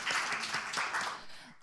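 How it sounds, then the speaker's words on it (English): Applause from the audience at the Asian Leadership Conference as panelists are welcomed, a soft, steady patter of many hands heard from a distance that thins out toward the end. "please welcome them with a warm round of applause"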